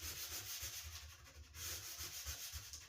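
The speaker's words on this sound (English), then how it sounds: "and just sand up to it" Steady sanding of a wooden cabinet door, a continuous close scratchy rasp that swells and eases in short back-and-forth strokes, with no voices over it.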